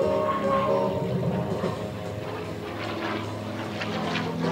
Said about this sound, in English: low on the deck in the beautiful P-51D Mustang